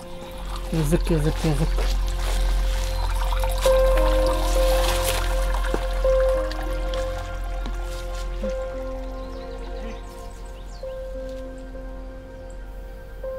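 Water pours steadily from a village spring in Dragoevo, Bulgaria, a continuous close splashing stream while people talk over it.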